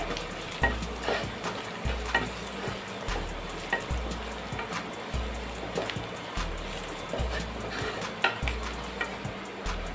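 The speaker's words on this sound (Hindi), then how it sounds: "अब इन सभी मसाले को भी हम अच्छी तरह से भून लेंगे" Chili powder and other spices roast in a pan for potato filling, a continuous frying hiss broken by regular low scraping strokes of a spatula roughly every second, with no talking.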